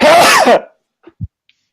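A single sharp, explosive sneeze, followed by a couple of faint low thumps and then quiet.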